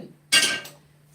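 A wooden ladle knocks once against a cooking pot, a single close, sharp clink that rings briefly and fades, with no one speaking.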